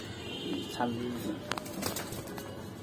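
Pigeons coo softly at a pigeon farm, a few low rolling calls under steady background noise, with someone talking nearby.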